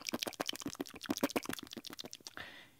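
A voice imitates thousands of sardine fins slapping the water surface: a rapid, dense patter of wet mouth clicks for about two and a half seconds that ends in a breathy hiss.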